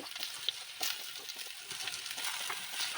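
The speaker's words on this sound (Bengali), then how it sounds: "এখন আমি তেলের মধ্যে আলুটাকে ভেজে নেব" Potatoes fry in hot oil with a steady, soft sizzle punctuated by small pops and crackles, close and alone.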